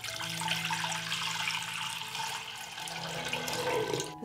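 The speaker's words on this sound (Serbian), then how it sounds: "Moj ekspres lonac je zapremine 6 litara i sipat ću litar vode." A liter of water pouring into a 6-liter pressure cooker, a continuous splashing, gurgling stream heard up close.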